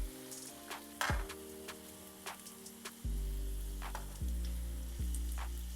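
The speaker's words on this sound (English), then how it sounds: "Once the oil is hot, we're gonna start frying the egg rolls" Egg rolls fry in hot oil in a pan, a steady crackling sizzle with scattered sharp pops and clicks, rising louder partway through as more oil contact begins.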